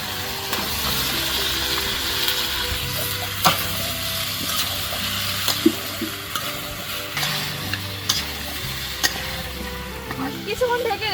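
Potatoes and drumstick stems tumble into a pan of spice paste and fry with a loud, constant sizzle, broken by irregular clacks and scrapes of a spoon stirring close by.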